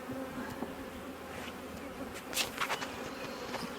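Many honey bees buzz at a hive in a continuous, faint drone, with a few louder individual insects flying close past the listener.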